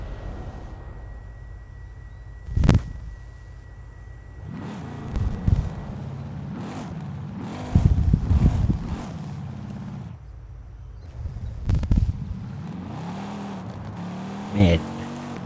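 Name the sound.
car engine revving in video game Forza Horizon 5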